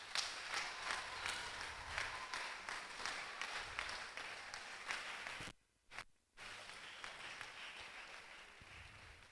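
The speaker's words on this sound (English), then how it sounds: "Please, let's give them a round of applause." A conference audience at a mission event claps for a drama team, dense sustained applause that briefly cuts out twice near the middle before resuming at full strength.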